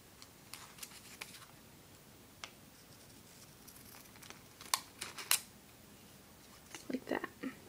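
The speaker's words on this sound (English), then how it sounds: "you're also going to cut it off right at that fold" Scissors snip paper at a fold while folding a paper hexaflexagon: a few sharp, crisp cuts with quiet rustling and pauses between them, fairly close.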